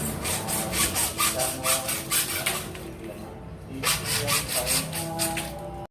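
Steady back-and-forth rasp of a hand saw cutting through plastic electrical wiring conduit, strokes in a quick even rhythm with a brief pause midway.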